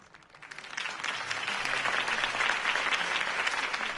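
A crowd at a Harvey Dent campaign rally in Batman: The Telltale Series bursts into applause that swells quickly from a few claps into a loud, steady roar of many hands clapping.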